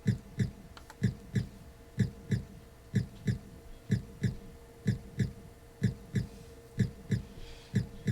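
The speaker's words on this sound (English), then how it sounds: "I hope you like the sound of heart beating." Heartbeat sound in the video game Turrican, a regular double-thump pulse repeating about once per second, loud and steady throughout.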